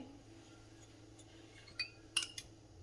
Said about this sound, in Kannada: ಮೊದಲಿಗೆ ಗ್ಯಾಸ್ ಸ್ಟವನ್ನು ಆನ್ ಮಾಡಿಬಿಟ್ಟು ಒಂದು ಬಾಣಲೆಯನ್ನು ಎತ್ತಿಟ್ಕೊತಿದ್ದೀನಿ